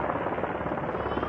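A helicopter's rotor throbs in a fast, steady chop, loud and continuous over a short stretch.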